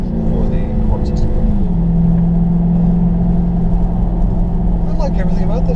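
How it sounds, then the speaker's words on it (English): A 2015 Dodge Challenger police car cruises steadily, its low engine drone and constant road and tire roar filling the cabin, with a faint rising engine note near the start and no break in the rumble. "Now, I'm getting a lot of tire noise"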